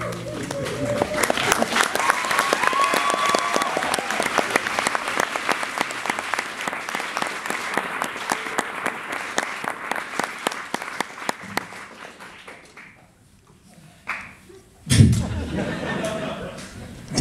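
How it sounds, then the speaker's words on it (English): A comedy concert audience at Mac Birmingham breaks into sustained applause, dense rapid clapping for about twelve seconds that thins out to a few last claps, followed by a brief burst of crowd noise and a voice. "There's not a prize for being the last person to clap, by the way."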